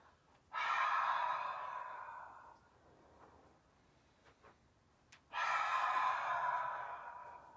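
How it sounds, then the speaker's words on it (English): Deep cleansing breath taken in a yoga class, heard twice as a long, loud airy exhale or sigh that tapers off, with a quiet pause between the two breaths. "cleansing breath."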